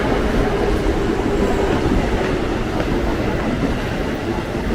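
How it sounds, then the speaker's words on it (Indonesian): A commuter train bound for Jakarta Kota rolls into a station with a continuous heavy rumble and rattling wheels, loud and steady, with faint screech tones over the noise. "ini masuk komuter lain tujuan Jakarta Kota"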